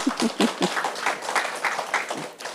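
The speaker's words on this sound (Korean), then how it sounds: "큰 박수 한번 드릴까요?" Audience at a business presentation claps in a short burst, with a few distinct early claps giving way to a brief spread of applause and murmuring, fairly faint.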